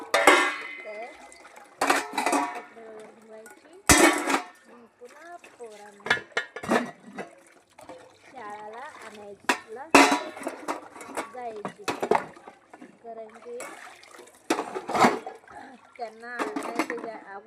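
Dishes, pots and pans clatter and clank repeatedly during household washing-up, with sharp metallic knocks and some water sounds, while someone talks throughout.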